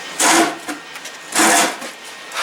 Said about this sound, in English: let's see if we can weld something tonight